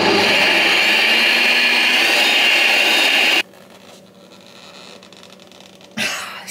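A worn Nutribullet blender runs loudly on hot soup with a harsh, high whirring roar for about three and a half seconds, then cuts off abruptly. Quieter room noise follows, then a short rustling burst near the end.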